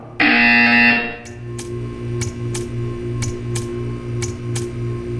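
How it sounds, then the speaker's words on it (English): A loud, harsh electronic buzzer in the video game Portal 2 blares for about a second, followed by a low droning hum with faint, evenly spaced ticks. "You will hear a buzzer."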